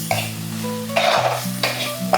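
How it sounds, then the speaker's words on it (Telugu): Ginger garlic paste and turmeric fry in a pan while being stirred, a steady close sizzle broken by three louder scraping stirs. "ఇవి కూడా కొంచెం అల్లం వెల్లుల్లిపాయ పేస్ట్ బాగా వేగాలి."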